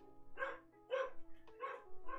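A pet dog indoors barks four times in a steady, evenly spaced series, moderately close and fairly quiet, with no talk over it.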